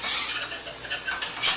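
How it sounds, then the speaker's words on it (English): Wire whisk beating flour into oil in a pan for a white wine sauce, producing a brisk, continuous metallic scraping and swishing at close range. "Pour the flour into the oil using a wire whisk. Whisk the flour so that it dissolves completely."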